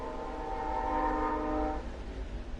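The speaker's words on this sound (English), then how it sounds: "When my window's open, there's always a train that comes by conveniently." A train rolls past an open window, a steady low rumble under a loud sustained multi-tone horn blast lasting about a second before fading back to rumble.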